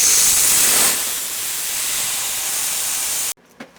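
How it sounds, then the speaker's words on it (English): A strong, steady hiss of compressed air rushes from an opened drain valve on a secondary air tank, loud and close for about three seconds before cutting off abruptly. "When we open this valve, we should get a rush of air."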